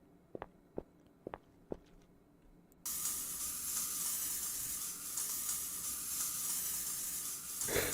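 Bug spray hisses in the video game Stay Out of the House. A few short clicks come first, then a loud, continuous aerosol hiss starts and holds steady to the end.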